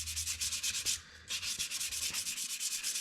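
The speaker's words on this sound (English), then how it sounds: "I might take some 320 here and just kind of scuff this out here just a little bit." A dyed maple vase is scuffed with 320 grit sandpaper, giving a steady run of close, rhythmic rasping strokes that pause briefly about a third of the way in before resuming.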